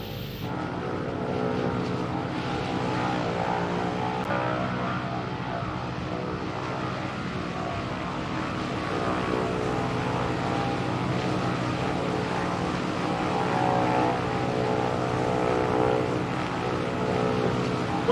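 A steady propeller aircraft engine drones at full power in Microsoft Flight Simulator, a dense, even rumble with layered harmonic tones holding constant throughout, no voices present.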